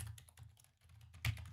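Quick, soft clatter of typing on a computer keyboard, irregular keystrokes close by and fairly quiet, with one slightly harder tap near the end.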